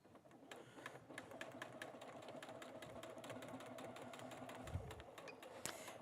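A sewing machine stitches a small mini tote with its zipper and strap in place, a steady, fairly quiet mechanical whir with rapid needle ticks running continuously and a brief low thump near the end.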